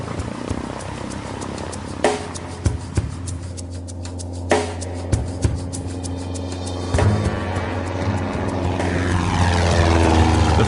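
Propeller airplane droning steadily in flight over irrigated flatlands near Blythe, with a low constant engine hum, scattered knocks and clicks, and the roar swelling slightly louder toward the end.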